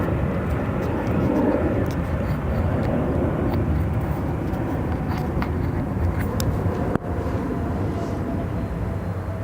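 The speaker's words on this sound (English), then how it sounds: "Got a United 319 landing 28 center now." A United Airbus A319 lands on runway 28 Center at O'Hare, its engines a loud, broad, steady roar close by, with a person talking over it.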